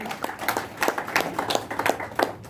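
Scattered hand clapping from a seminar audience on LIC insurance careers in Patna, a few distinct claps in an uneven rhythm, fairly close and moderately loud, with no talk over it.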